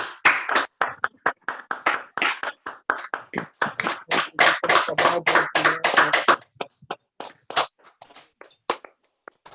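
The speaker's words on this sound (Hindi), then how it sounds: "अब धीरे धीरे अपने हथेलियों को अलग करते हुए आप सब अपने आप को अनम्यूट करेंगे और ताली बजाएं मास्टर्स।" Scattered participants on an online group call clap unevenly, sharp hand slaps bunching into a dense burst before thinning out to a few isolated claps near the end.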